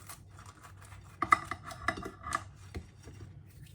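Several quick crunchy snips as scissors cut through a crispy, well-cooked pomodoro pizza, with brief irregular clicks and light clatter up close.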